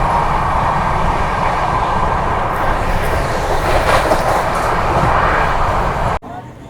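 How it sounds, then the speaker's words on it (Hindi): A Duronto Express passes Ara Junction in a steady, loud, continuous rumble of wheels and rushing air, with no break in the noise until it cuts off abruptly near the end. "दोस्तों आरा जंक्शन क्रॉस कर रही है अपनी ट्रेन।"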